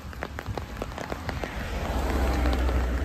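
Rain falls at Jhakri Falls Park in Gangtok as a steady hiss of patter with distinct drops tapping nearby, growing gradually louder and fuller.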